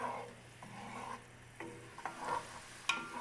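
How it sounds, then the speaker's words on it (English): Beef stock bubbling and reducing over high heat in a cast iron pan, a soft, close sizzle with light scrapes and a few sharper clicks, quiet and without talk. "we're going to cook this over a fairly high heat to let that stock reduce"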